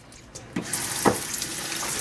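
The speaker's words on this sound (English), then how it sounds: "And then we're going to add some water." Water runs from a tap into a pot of raw oxtail with vinegar and fresh lemon for a rinse, a steady close splashing hiss that swells after a few soft knocks and carries on alone.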